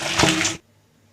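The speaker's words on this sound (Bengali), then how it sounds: "ডালটা ঢেলে নিচ্ছি।" Cooked dal pours into a kadai of hot oil with a dried red chilli, a loud wet splashing hiss lasting about half a second before cutting off abruptly into near silence.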